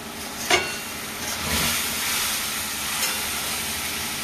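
Fish and turmeric powder frying in a pan, a steady broadband sizzle with a couple of brief sputtering pops, no talking.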